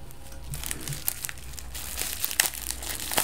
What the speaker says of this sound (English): I'm using my cat's nail clippers to open things